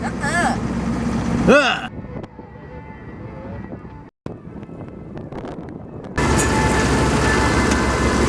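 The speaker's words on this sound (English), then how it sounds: "Downpour" Heavy rain pours down on a boat on the Intracoastal Waterway in a steady broadband hiss, loudest at the start and end, with muffled talking and marine radio chatter during the quieter middle stretch.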